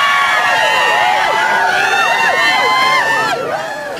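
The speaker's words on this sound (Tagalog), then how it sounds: "Hiyawan mula sa libu-libong tagahanga ang sumalubong kay Miss World 2013 Megan Yang sa kanyang engrandeng motorcade." Thousands of fans scream and cheer for Miss World 2013 during her victory parade motorcade. The crowd sound is loud and dense, with many overlapping high shrieks and no pause.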